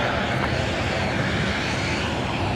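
A Challenger business jet arriving from Port Moresby onto runway 19 at Brisbane Airport, a steady, broad engine roar holding loud and constant throughout, with no voices.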